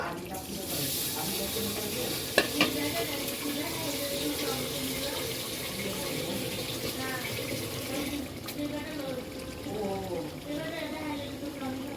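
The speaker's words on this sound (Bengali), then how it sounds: "হালকা একটু পানি দিয়ে দিলাম।" Water poured into a pan where a fish head is braising, giving a steady hiss and wash of liquid with a brief sharp clink, a voice faintly present underneath.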